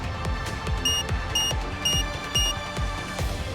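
An excavation bomb alarm in the video game Nikke sounds as loud, rapid, evenly repeated electronic beeps in a tight pulsing rhythm, close and alone.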